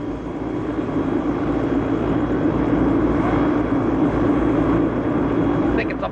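A steady, loud aircraft engine drone fills the whole stretch, a continuous propeller-like rumble with faint voices underneath.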